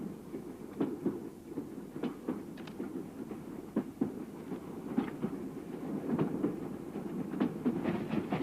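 A train rolls along the rails with a steady low rumble and repeated clickety-clack wheel beats spaced irregularly, heard from inside a carriage, moderately loud and without talk.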